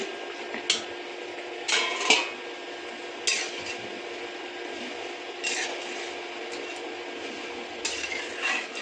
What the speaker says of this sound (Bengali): এই অবস্থায় আমি এই রস চেপে রাখা চাল কুমড়োগুলো সব দিয়ে দেবো